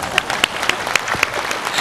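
An audience at a temple dharma assembly breaks into applause, a steady wash of clapping with a few louder individual claps standing out close by.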